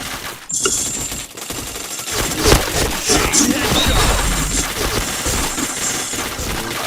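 Dense gunfire in a shooting video game, rapid bursts and overlapping shots with crashing impacts that run almost continuously, loud and close.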